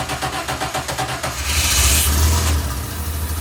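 A turbocharged DeLorean engine cranks with a rapid rhythmic starter whir, then catches and settles into a loud, steady idle, heard up close with no talk.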